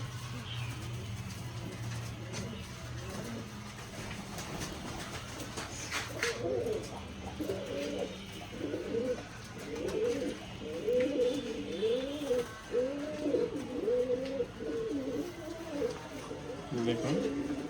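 Pigeons in a crowded loft keep up soft, overlapping coos and rumbling calls, growing more rhythmic and noticeable in the second half, while someone talks over them nearly the whole time.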